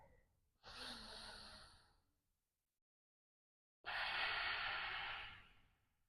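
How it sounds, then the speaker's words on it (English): Two long, deep breaths during a vinyasa yoga stretch, an inhale followed after a pause of silence by a fuller exhale, close and breathy with no talking. "Let's take 1 more deep breath here."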